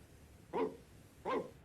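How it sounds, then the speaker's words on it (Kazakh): Two separate barks from a dog in a 1961 animated Dalmatians film dubbed into Kazakh, each short and full, spaced about half a second apart against a quiet background. "Керек болса түні бойы үріп шығам."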